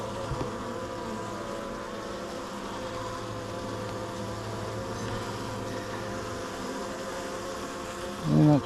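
Honeybees buzz continuously during a September beehive inspection, a dense, steady drone from many bees close by that fills the whole stretch, with a brief handling thump near the end.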